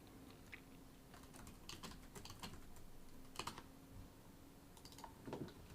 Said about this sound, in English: I'm only typing this in for you guys.